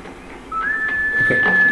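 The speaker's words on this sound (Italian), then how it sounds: "Questo fischio." A single whistle in the video game Assassin's Creed 3, a thin, steady, slightly rising tone held for about a second over quiet game ambience.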